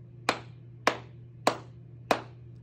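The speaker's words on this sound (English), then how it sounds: "So I'm gonna clap a pattern with my hands" Four crisp hand claps sound at an even, steady pace, close and clear over a low background hum, with no talking, as a simple rhythm pattern for a music warm-up.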